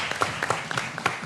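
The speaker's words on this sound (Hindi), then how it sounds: "भाई तालियां भाई" A studio audience applauding on a television talk show, a short burst of scattered claps, moderately loud, with a little talk underneath.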